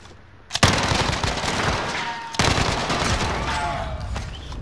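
Gunfire in Call of Duty: Warzone arrives as two sharp bursts of rapid shots. Each volley is loud and close and trails into a sustained rattle.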